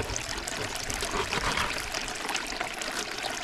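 Water runs steadily while a muddy bucket of gold-prospecting dirt is panned in the Mother Lode, a continuous close splashing trickle alone without talk.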